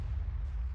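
Cannon fire in a Napoleonic-era strategy video game battle: a dense, continuous low rumble of artillery with no single sharp blast standing out, steady and fairly loud throughout the short stretch.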